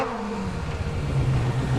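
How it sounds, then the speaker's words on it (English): A Mazda RX2 rotary-engined rear-wheel-drive rally car at a rally sprint, engine droning loud and close with a rising pitch as it accelerates, no talk. "here we have the Mazda Rx2 Rotary. Distinct sound again."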